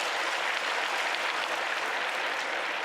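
Church congregation applauding during a Sunday service, a dense steady burst of clapping from many hands filling the room, with no voices over it.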